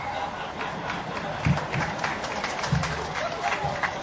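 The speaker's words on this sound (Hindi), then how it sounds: "तालियां क्यों बजा रहे हो?" An audience at an outdoor political rally in Datia claps and cheers in a steady, dense wash of applause, with crowd noise and a voice over a loudspeaker heard underneath.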